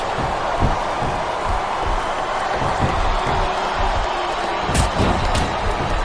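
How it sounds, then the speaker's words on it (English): Arena crowd cheering in WWE SmackDown vs Raw 2007 during an Ironman wrestling match, a loud constant roar with occasional slams and thuds from the ring. "I love hearing the crowd come alive"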